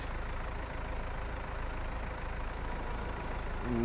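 A tractor engine in the farming game Virtual Homestead, Silverrun Forest, droning at a steady low idle, loud and continuous with no talk over it.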